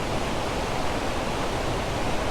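Lumb Hole Waterfall in autumn, a steady broadband roar of falling water, loud and close, with no change in level and no other sounds.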